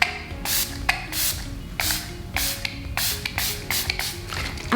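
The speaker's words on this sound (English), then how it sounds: "We help makeup with setting spray, setting mist from 20 centimeters or something." Setting spray mists onto a made-up face from about 20 centimetres, a series of soft, breathy spritz bursts in irregular succession, close and quiet with no talking.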